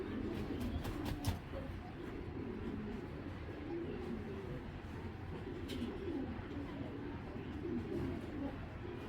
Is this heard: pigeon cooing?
yes